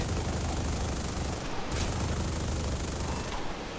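Phantom FGR.2 jet guns firing in the video game War Thunder, a continuous loud roaring burst of rapid cannon fire with a brief gap midway, alone without talking.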